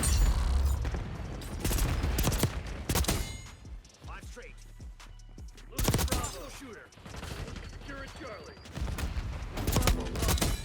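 AEK-973 burst rifle firing in Black Ops 6 multiplayer, with rapid clusters of shots and some quieter gaps, loud and close under occasional talking.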